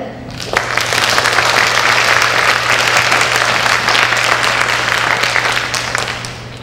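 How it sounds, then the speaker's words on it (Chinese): A school auditorium audience claps to welcome a junior high choir at a music recital, steady full applause rising quickly, holding for several seconds, then easing off, with a low constant hum beneath. "掌声欢迎合唱团的表演。"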